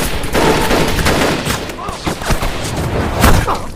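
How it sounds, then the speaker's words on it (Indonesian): Gunfire in a war film battle scene, a loud chaotic run of overlapping shots and bursts with dense noise, some voices mixed in beneath the firing. "musuh juga berhasil menembak Zhang He"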